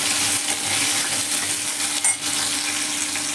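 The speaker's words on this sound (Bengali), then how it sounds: "এবার এর মধ্যে আমি কেটে রাখা আলুগুলো দিয়ে ভালো করে ভেজে নেব।" Cut potatoes fry in a pan with salt, giving a dense continuous sizzle with faint stirring scrapes and a brief clink, close and steady with no voices.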